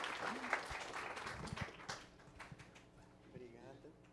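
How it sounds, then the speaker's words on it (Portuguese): Audience at a medical cannabis forum gives a faint round of applause, low and distant, with voices talking over the scattered claps. "Aplausos."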